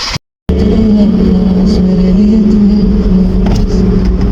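A small car drives along with a steady, loud engine drone heard from inside, continuous and even after a brief cutout at the start, with faint road noise.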